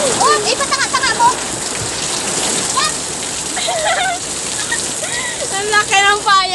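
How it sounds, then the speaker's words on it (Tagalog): Heavy rain drums steadily on an umbrella in a continuous dense hiss, with voices speaking intermittently over the downpour. "Alakas talaga ng ulan."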